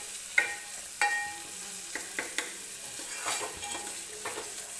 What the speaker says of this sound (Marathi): टोमॅटो छान भाजू द्यायचा आहे.